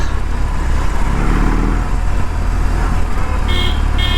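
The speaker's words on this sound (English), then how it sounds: "Horn is typical Honda Activa ka horn, updated version." Two short, bright honks from a motorcycle horn like a Honda Activa's, fitted to an 1800cc bike, cut through steady engine and road traffic rumble near the end.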